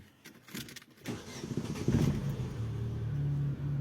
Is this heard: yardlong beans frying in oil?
no